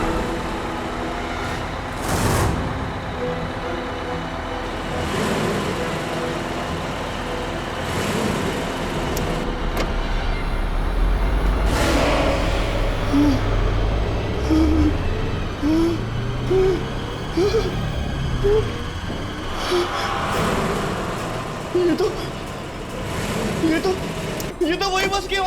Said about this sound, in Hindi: ये तो वही बस की आवाज है।